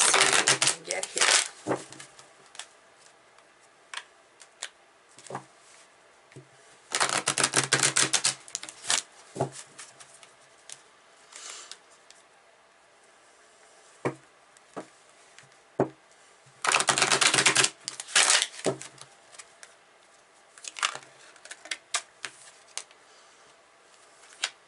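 Soul Coaching Oracle cards being shuffled in several loud, dense bursts of riffling and flicking, separated by quieter stretches of scattered taps and light handling.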